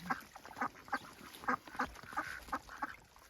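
Ducks quack beside water in a string of about eight nasal calls spaced at irregular intervals, moderately near and fairly loud over faint background hiss.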